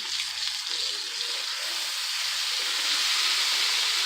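Ribeye steak sizzling on a grill, a steady bright hissing crackle that holds and slightly swells over a few seconds, close and alone with faint low clanks in the background.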